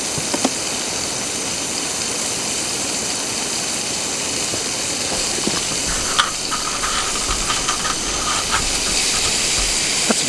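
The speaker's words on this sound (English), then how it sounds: "you put the margarine in the frying pan and it starts melting" Margarine melts and sizzles in a hot frying pan outdoors while cooking wild trout, a steady broad hiss with occasional crackles and pops, loud and continuous.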